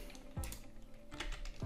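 Keyboard shortcuts pressed on a computer keyboard while working in Power BI: a few quick, close key taps and clicks in short succession, fairly quiet.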